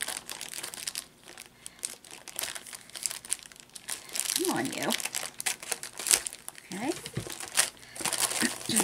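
Plastic wrapping crinkles and rustles in short bursts, close by, as a diamond art canvas is unwrapped and a person murmurs a few words between handling sounds.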